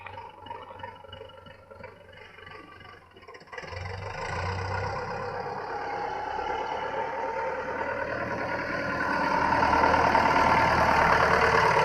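A tractor towing a WIRAX 12 m, 400-litre sprayer drives off, its engine idling at first, then revving into a steady, louder drone that rises again toward the end.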